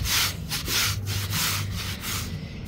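A small rug is scrubbed by hand with pine cleaner, rhythmic close rubbing strokes in repeated back-and-forth bursts.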